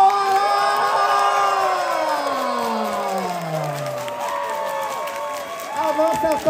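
Crowd at a drag show final battle cheers and shouts for drag performer Gamorah, with whoops and a sliding vocal whistle over music-like tones, loud and lively throughout.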